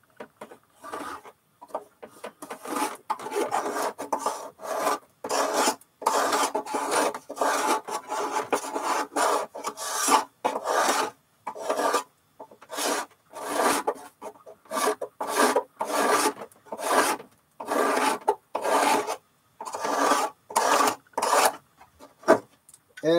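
Rounded chisel cutting away excess wood on an old upright bass under restoration, a long series of close rhythmic rasping scrapes, each stroke a short burst separated by brief pauses.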